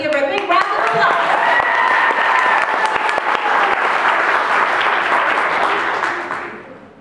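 A big round of applause and cheering from a school talent show audience for a young singer about to perform, loud and continuous, with crowd voices mixed in, fading out toward the end.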